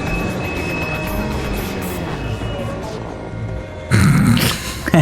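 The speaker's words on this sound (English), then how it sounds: "It's a pretty rare sight though, getting wrecked by the train." A train rumbles past in Need for Speed Underground, a steady low roar holding for several seconds before a louder, harsher crash-like burst near the end.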